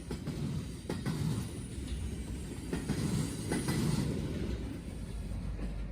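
NS 057, a southbound military train of military vehicles led by a BNSF locomotive, rolls past with a steady loud rumble, rhythmic wheel clacks and thumps, and faint wheel squeal.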